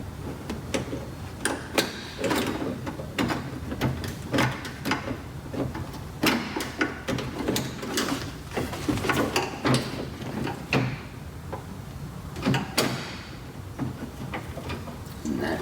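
A small red lock clip inside a car door is pried open with a tool, giving a run of sharp plastic clicks, snaps and scraping knocks, close up, with occasional speech around them.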